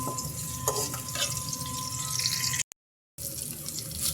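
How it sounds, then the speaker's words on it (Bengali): Onions being stirred as they fry in a pan on a home stove for a chicken and potato curry, a steady crackling sizzle with scraping spoon strokes, clear and close, briefly cutting to silence before the sizzle resumes. "আমি পেঁয়াজটাকে এখন নেড়ে দিলাম"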